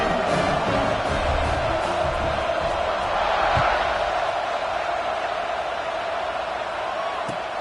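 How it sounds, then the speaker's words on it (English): A stadium crowd at an American football game keeps up a dense, steady roar after a score, loud and unbroken throughout. "this crowd is buzzing after that last score"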